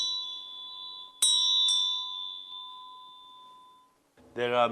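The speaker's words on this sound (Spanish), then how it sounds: "con los sonidos de campanas que se usan antes de rezar o con cantos" A prayer bell tone rings and sustains, struck again twice in quick succession, decaying slowly before a voice begins speaking at the end.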